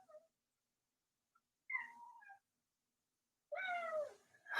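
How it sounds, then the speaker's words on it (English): A pet cat meows twice, first with a short mid-pitched call and then a longer, louder, more insistent meow, each standing alone in an otherwise quiet indoor room. "My kitty is talking."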